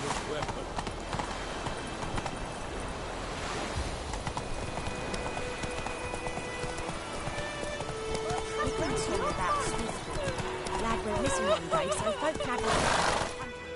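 Roach, Geralt's horse in The Witcher 3, trots with steady clip-clop hoofbeats, accompanied by occasional whinnies, in a busy game mix where voices talk throughout.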